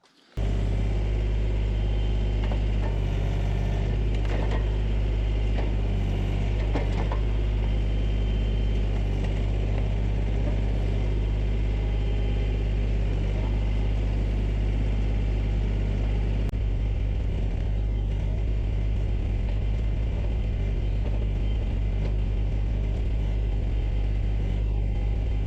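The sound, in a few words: Kioti tractor engine pulling out a stump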